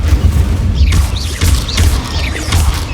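The Incendio fire spell cast in Hogwarts Legacy, heard as repeated whooshing bursts of flame over a rumbling, booming game soundscape, several casts in steady succession.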